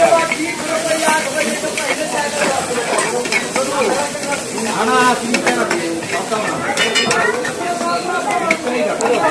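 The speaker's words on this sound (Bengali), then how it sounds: "তো পুরো ফ্রাই করবে" Tarka frying in a pan at a street food stall in Kolkata makes loud, continuous sizzling, mixed with a spatula scraping and the clatter of cookware, busy and close, with voices in the background.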